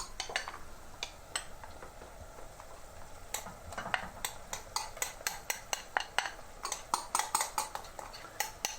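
Curry paste for a jalfrezi is stirred in a pan, with a spoon clinking and scraping against metal in irregular taps that quicken toward the end, over a faint sizzle.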